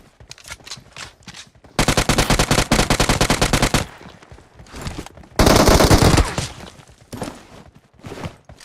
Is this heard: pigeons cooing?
no